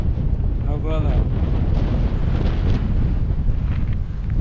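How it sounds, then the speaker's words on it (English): Strong wind buffets steadily at a roadside on a bike route out of Wyoming into Colorado, a loud continuous low roar with gusty rumble throughout and a brief faint voice early on. "Yeah, so it is windy"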